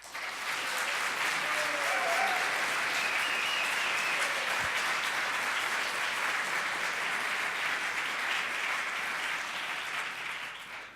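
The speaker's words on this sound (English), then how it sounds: "Now I need the audience to help me to applaud if you think Andrew Stark was the best one." Debate audience applauding as a vote for a debater, a broad, even wash of many hands clapping that holds steady for several seconds before tapering off slightly at the end.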